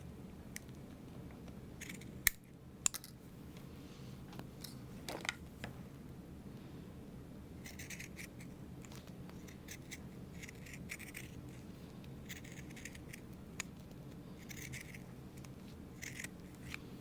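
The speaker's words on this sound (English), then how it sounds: "Pinking shears." Pinking shears snipping through fabric for a sewing bag project, a series of quiet, scattered crisp cuts and scratchy rustles over a low room hum, with no talking.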